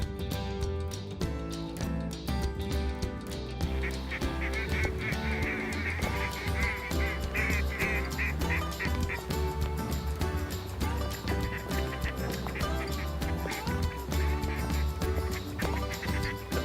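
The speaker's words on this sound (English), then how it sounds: "we had a bunch of 300 to 500 ducks working the decoys" A large flock of mallard ducks, hundreds strong, works over decoys in a burnt wheat field in Saskatchewan, a dense continuous chorus of quacking and calling, steady and fairly loud throughout.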